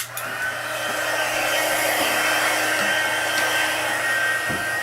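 Steady, loud whoosh of a heat embossing tool blowing hot air to set copper embossing powder on a card, running continuously with no voices.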